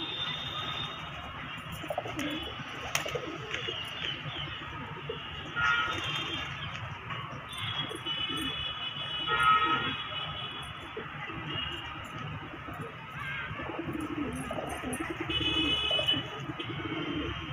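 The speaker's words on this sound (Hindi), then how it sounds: "इसी तरह ही सारे जंगली कबूतर घूम रहे हैं।" Wild pigeons coo softly and repeatedly on a rooftop over a low outdoor background, with faint chirps and occasional flutters scattered throughout.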